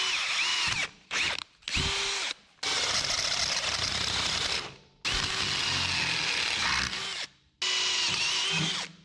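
A power drill bores holes through flat steel strap during custom fabrication on a 1967 Toyota Stout, the loud whine running in several long bursts separated by brief pauses as the bit stops and restarts.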